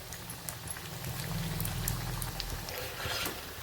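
Potato and semolina snack pieces frying in hot oil, a steady close bubbling crackle with fine patter continuing throughout, no voices.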